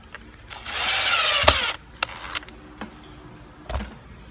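A power drill drives number 8 half-inch screws into the rear of a 2014-up 8.8 motorcycle speaker lid, one long whirring burst followed by several shorter drill pulses and clicks, close and alone.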